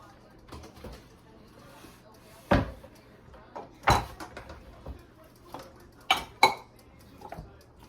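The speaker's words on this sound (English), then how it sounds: "let me get my chopping board back up here again" A chopping board set down on a counter with a couple of sharp wooden knocks, among scattered kitchen clatter and quiet handling noises.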